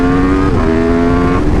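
An Aprilia RSV4 RF Ltd. Edition motorcycle engine holds a loud, steady high-pitched drone with a slight pitch dip partway through, close and dominant with no talk.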